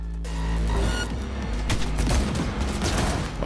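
Ranged weapons fire from a car window during a driving chase in the video game Cyberpunk 2077, a loud, dense volley of gunshots over an engine rumble and game music, with no one speaking.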